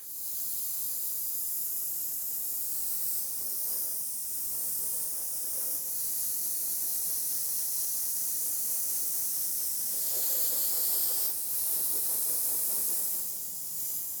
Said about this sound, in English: To the airbrush.